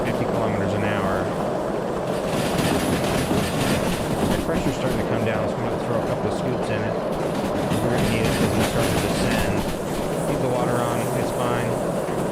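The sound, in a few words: steam locomotive running in video game Derail Valley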